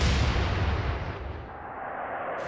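Naval guns fire in the World War II sea-battle game Atlantic Fleet: one heavy blast opens, then a long rumbling decay fades away, with no talk.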